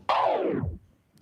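A single sustained tone from a vinyl record on a turntable sweeps steeply downward in pitch and fades out within about a second as the record is braked to a stop.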